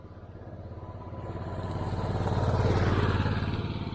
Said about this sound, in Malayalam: ബൈക്കിൽ ആരൊക്കെയോ കയറി വരുന്നുണ്ട്.